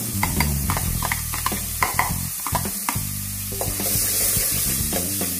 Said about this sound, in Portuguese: Deixa refogar um pouquinho.